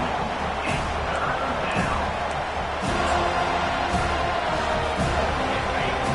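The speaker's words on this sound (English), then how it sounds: "Here comes this home crowd as the defense tries to get off the field on 3rd down." A home crowd roars at a football game as the defense faces third down, a broad sustained cheer with claps and shouts rising and swelling throughout.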